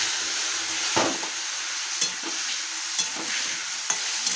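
A ginger, cumin and green chilli paste fries with browned potatoes for a rohu fish and pea-leaf curry. A spatula scrapes the pan at a steady pace, about once a second, over a constant close sizzle.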